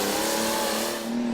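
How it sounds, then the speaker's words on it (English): An International Harvester tractor roars at a tractor pull, its engine revving hard and loud in one brief burst, the pitch climbing as it pulls. "coming up next, the Red Thunder. It's an international harvester tractor driven by Scott Fackler"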